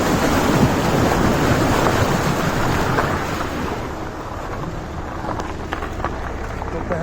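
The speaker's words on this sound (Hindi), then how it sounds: "तो पहली नदी हमने क्रॉस की है।" A vehicle driving through a river crossing in Rajaji National Park, a loud rushing wash of water and wind noise that eases after a few seconds into a lower rumble with faint knocks.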